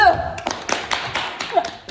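A short burst of scattered hand claps from a small group, a few quick sharp slaps standing out, with voices murmuring underneath.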